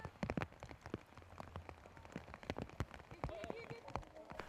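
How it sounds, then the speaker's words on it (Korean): Heavy rain pours steadily outdoors on a morning in the Ji'an area, a dense wash of drops with sharp splashes and knocks throughout, voices faintly present underneath. "다음날 아침, 굵은 비가 내립니다."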